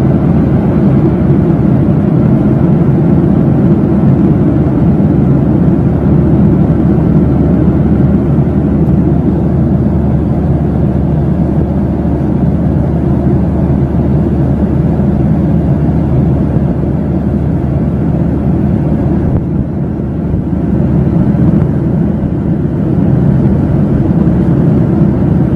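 Steady, loud engine drone inside a passenger plane cabin, a constant low rumbling hum that barely changes over the whole stretch.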